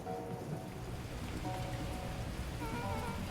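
A storm in the game Beacon Pines: steady, dense rain hissing and pattering on surfaces at an even level throughout, with no voices.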